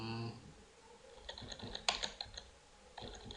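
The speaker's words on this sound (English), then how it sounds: "So I will go to short key Control R and type CMD." Computer keyboard keys being typed, a short run of soft clicks, close and fairly quiet, with a faint voice at the start.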